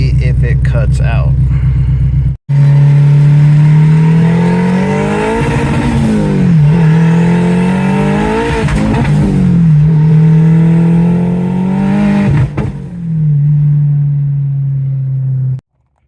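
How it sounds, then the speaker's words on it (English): A turbocharged car with a leaking blow-off valve accelerates on a test drive, the engine revving up and down through several pulls in a loud, close drone, with a brief cut near the start. "we're gonna take her out for a little spin and see if it cuts out"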